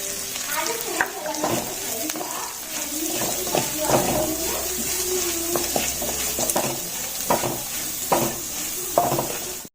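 Cashews and grated carrot fry in a pan for vegetable fried rice, a steady sizzle broken by repeated scraping stirs and clinks of the utensil, close and moderately loud, with brief quiet speech in places.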